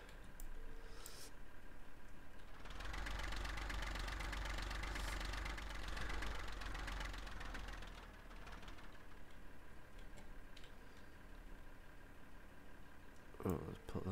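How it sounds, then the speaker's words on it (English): A tractor's diesel engine runs steadily in Farming Simulator 15, a loud continuous drone that eases slightly after about eight seconds, with a brief clank near the end. "It's a good thing we did refuel this tractor, because it doesn't half like burning some diesel."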